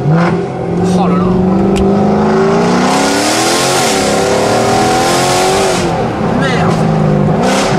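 A modified Mercedes C63 AMG engine revs hard up close while driving, its pitch climbing and falling between throttle bursts, with a brief exclamation from a voice inside.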